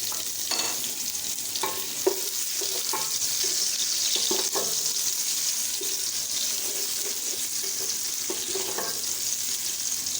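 Sliced onions hitting about three-quarters of a cup of hot oil for chicken pulao fry with a steady broadband sizzle, broken by intermittent scraping clinks of a spoon stirring the pan, close and fairly loud, with no voice.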